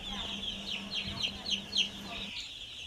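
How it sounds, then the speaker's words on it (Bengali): Four-day-old Kazi Ross broiler chicks on a poultry farm, a cluster of high, repeated peeping cheeps close by over a low steady hum. "এই মুরগির বাচ্চাটা হচ্ছে কাজী কোম্পানির কাজী রস যে মুরগির বাচ্চাটা"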